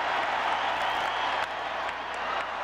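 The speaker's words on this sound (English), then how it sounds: "Now the Fenway crowd gets into it." Baseball crowd at Fenway Park during a 2003 AL Division Series playoff game between the A's and Red Sox, a steady roar of cheering and applause that holds a broad, distant wash throughout.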